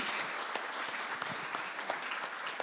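An audience claps for a guest at an interview event, a brief burst of dense, fairly faint applause that stays even from start to finish.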